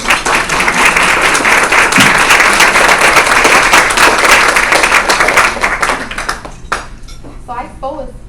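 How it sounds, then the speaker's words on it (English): A loud, dense round of audience applause at a women's event, sustained for several seconds before thinning into scattered claps and a few voices near the end. "let's give them all a round of applause"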